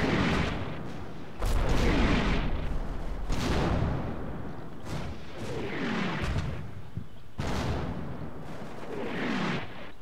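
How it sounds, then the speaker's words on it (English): Heavy artillery in a WWII strategy video game booms repeatedly, several deep blasts with long rumbling decays, some near and loud, others more distant, with no talk. "Okay, that's not my artillery"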